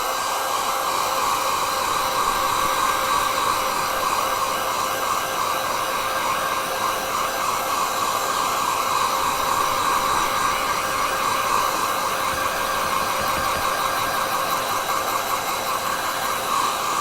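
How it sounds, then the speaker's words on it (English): Hair dryer blowing on a wet watercolour painting, a steady loud whirring roar that holds level and unbroken from start to finish. "Let's get the dryer out. It's going to make a noise."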